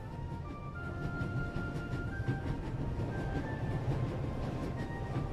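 A train running at full speed in the video game The Raven: Legacy of a Master Thief, with a continuous low rumble, rhythmic rail clatter and faint tonal squeals, steady throughout.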